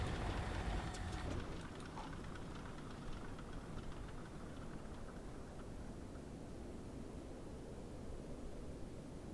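The twin radial engines of a Douglas DC-3 in Microsoft Flight Simulator shut down: a rough engine rumble drops away in the first second or two, leaving a faint, steady hiss.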